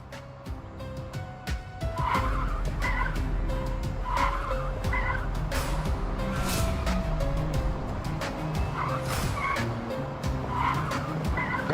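A car skids to a stop with tires squealing in repeated bursts over a loud engine, the screech sustained and close for several seconds.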